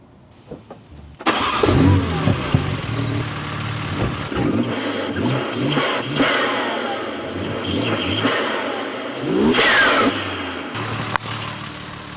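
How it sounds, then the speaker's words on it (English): A BMW G80 M3 engine cranks and fires, then revs repeatedly with a throaty intake roar, rising and falling bursts before settling toward idle. "Now with any luck, we'll have some intake noises now to match the exhaust noises."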